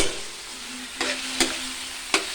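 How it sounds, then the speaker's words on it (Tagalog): Onion with chicken liver and gizzard stirred in a home frying pan for chopsuey, a soft sizzle underneath with three sharp spatula scrapes spaced across the moment, no voices. "Hinalo ko ng hinalo."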